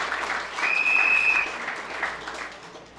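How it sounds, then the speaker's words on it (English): An audience at a Caroni Central community gathering gives a round of applause: a dense, close burst of clapping that swells and then gradually fades over a few seconds. "So let's give them a Caroni Central round of applause."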